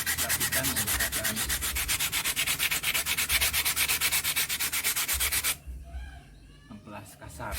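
Rapid rhythmic back-and-forth scraping of coarse sandpaper smoothing a template pattern piece, loud and close for about five seconds, then stopping into quieter handling sounds.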